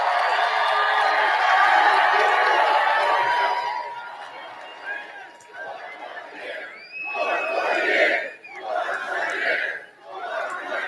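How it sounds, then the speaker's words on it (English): A dense crowd at a Trump speech roars and cheers loudly at first, then fades into scattered shouts and whoops before swelling again in waves of yelling. "Cheering. You gotta love it."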